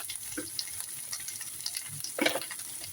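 Mashed papaya and salt fry in a pan with a soft, steady sizzle, and a stirring spoon scrapes briefly now and then, louder near the end, close but quiet.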